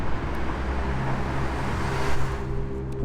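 Steady car traffic rumbling through Guanajuato's underground road tunnels, a continuous enclosed roar of engines with low droning hum and no distinct voices.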